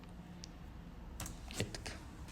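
Keyboard typing as a prompt is entered into ChatGPT: a short burst of quick, light key clicks near the end after a quiet stretch, close and fairly soft, with no speech.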